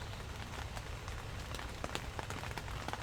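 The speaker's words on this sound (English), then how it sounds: "Can you hear the rain on the tent?" Steady patter of rain falling on a tent, dense and continuous with scattered sharper drop hits close by, no voices.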